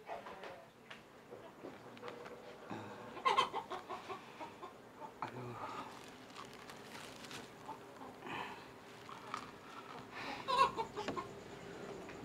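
Chickens cluck softly in the background, with a few louder squawks rising above the low, quiet ambience.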